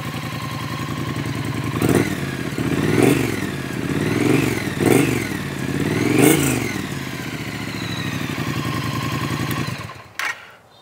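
A 2023 Triumph Speed Twin 900 parallel-twin motorcycle exhaust rumbles steadily nearby with several throttle blips rising and falling, then cuts off abruptly near the end.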